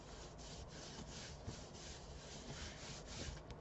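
Tape is rubbed down firmly with a burnishing tool, giving faint, close, continuous scraping strokes with a soft rhythmic rise and fall and no talking.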